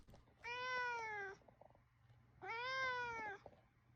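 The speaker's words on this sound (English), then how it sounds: "Thank you for that wholesome cat." Two clear cat meows, each about a second long and separated by a pause, close and fairly loud over a faint background hum.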